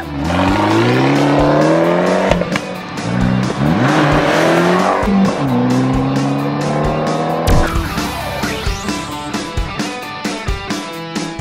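A sporty car roars and revs loudly up close, the dual exhaust rising and falling through repeated throttle blips and gear changes, with a sharp burbling note.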